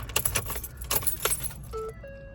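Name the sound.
keys jangling while inserting key into Ford F-150 ignition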